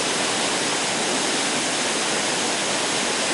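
Steady broadband roar of a waterfall in the Dongyan Mountain forest, a continuous close rush of falling water with no pauses and no voices.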